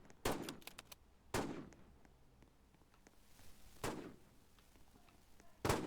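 A pump shotgun in Roblox fires four loud, sharp blasts, spaced irregularly with quiet gaps between them and a few fainter clicks.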